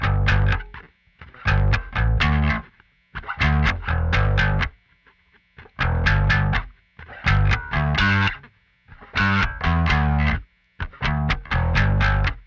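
A distorted electric bass plays the chorus part of a song in punchy, repeated phrases separated by brief gaps, with a gritty tone and no other instruments or voices.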